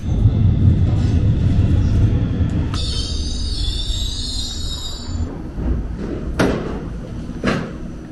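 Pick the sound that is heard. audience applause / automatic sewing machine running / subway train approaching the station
subway train approaching the station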